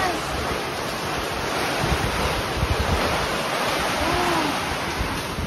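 Heavy rain and strong wind in a storm pour down in a loud, unbroken roaring wash close by, steady for the whole stretch with slight surges of gusting.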